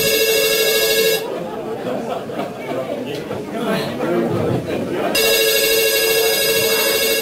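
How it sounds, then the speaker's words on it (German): A telephone rings in two bursts of bright electronic trilling in a doctor's practice, with people chattering nearby in the pause between rings. "Mein Telefon."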